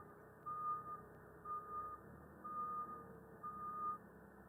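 A forklift reverses, its back-up alarm giving four evenly spaced, steady electronic beeps over a low engine idle with no talking.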